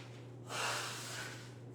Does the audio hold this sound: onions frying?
no